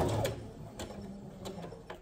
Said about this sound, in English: I'm actually gonna do a back stitch on it